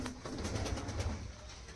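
Several pigeons coo in a loft of Rampuri Teddy Golden Kamagar and Giribaz birds in Mathurapur, low overlapping burbling calls that run steadily through the moment with no one speaking.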